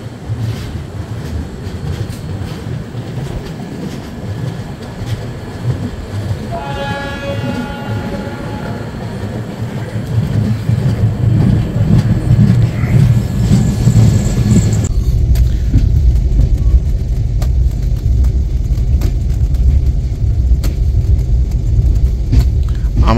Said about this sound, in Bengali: আমাদের ট্রেন কিন্তু তার পরবর্তী স্টপেজ চেন্নাই ইগমোরে এলো